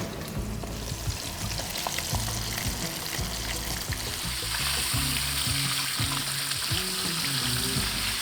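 A whole fish sizzles loudly in hot oil as it deep-fries, a steady bubbling hiss that swells into a more intense crackle partway through, with faint rhythmic background tones beneath and no talking.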